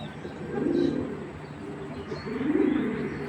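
Giribaz pigeons, including a green-necked one, coo softly and close by, with two rolling coos a couple of seconds apart over a faint background hum.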